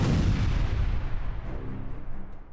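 A laundromat explodes in one loud, heavy blast that rolls into a long, fading rumble over a couple of seconds.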